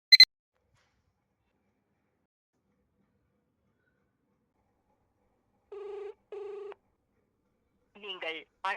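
A phone call being dialed and left unanswered: a short tone, then two long ringback tones near the end, followed by a recorded voice announcement, otherwise silence.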